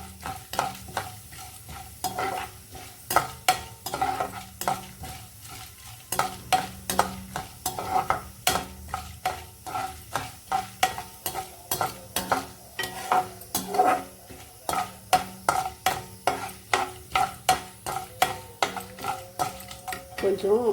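A tempering of spices sizzles in a pan during a long run of rhythmic stirring, with frequent clicks and scrapes of a spoon against the metal and almost no talking.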